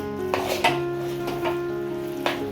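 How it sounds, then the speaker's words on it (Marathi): Goda masala spice paste fries in oil with a soft sizzle, broken by several sharp scraping stirs from a spatula against the pan over a faint background hum. "आता मी गोडा मसाला वगैरे टाकलेला आहे आता हे तेल सुटेपर्यंत मी परतून घेते"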